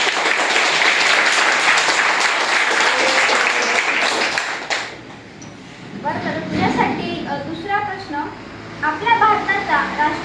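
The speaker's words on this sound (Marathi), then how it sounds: "वासुदेवसाठी सगळ्यांनी टाळ्या वाजवायच्या" A room of children at a village primary school quiz burst into loud, dense applause for a classmate, which breaks off midway and gives way to children's voices talking and calling out.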